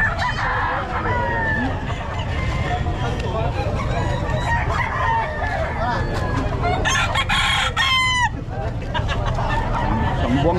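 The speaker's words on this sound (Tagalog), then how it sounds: "Mga manok." Chickens cluck and a rooster crows on a busy Saturday market day, a loud, crowded mix of fowl calls with a clear crow near the end and some voices in the background.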